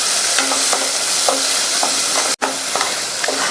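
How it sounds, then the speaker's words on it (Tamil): Chopped onion sautéing in butter for a soup, a constant sizzle broken by regular scraping stirs of a spoon, with one brief cut near the end and no voices. "இந்த வெங்காயத்தையும் லைட்டாக ஒரு 30 செகண்ட்ஸ் போல் வதக்கினா போதும்"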